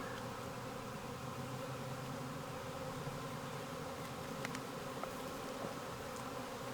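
A dense, steady hum of many honey bees buzzing together close by on comb, continuous and even throughout with no voices.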